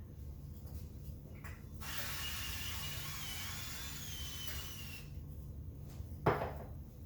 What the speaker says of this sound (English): I've got a little bit of coconut spray.